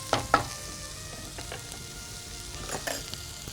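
Tomato masala with chili powder, coriander powder and salt frying in a pan: a soft, steady sizzle with a couple of sharp spatula taps near the start and a few more later.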